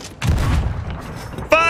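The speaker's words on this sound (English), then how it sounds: "Fire cannons!" Ship cannons fire in the pirate video game Sea of Thieves, a single heavy booming blast that rumbles away, followed by a sharp sound at the end.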